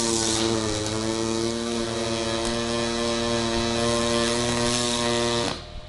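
Pulse MIG welder laying a bead on sheet metal, giving a steady, loud buzzing hum with a fast even pulse that runs for about five seconds before cutting off abruptly near the end.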